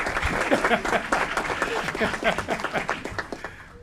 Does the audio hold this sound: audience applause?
yes